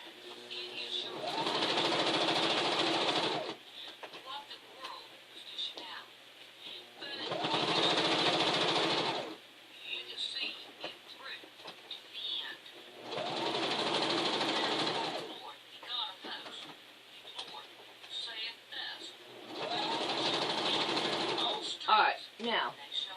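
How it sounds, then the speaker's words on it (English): Sewing machine stitching a log cabin quilt block, running in four steady bursts of a few seconds each with short pauses between, close and fairly loud, with quiet handling noises in the gaps. "We'll sew it."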